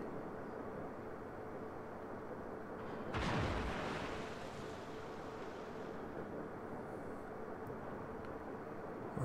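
A shell from the Kohlberg exploding in the World of Warships video game, a single muffled boom with a rushing roar that fades over a few seconds, set against a constant low engine and sea rumble.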